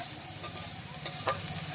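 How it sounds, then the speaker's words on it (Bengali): Potatoes with salt and turmeric frying in a pan for a jute-leaf curry: a steady soft sizzle with a few clinks and scrapes of stirring, close and quiet. "একটু নাড়িয়ে চাড়িয়ে ভালো করে ভাজা করে"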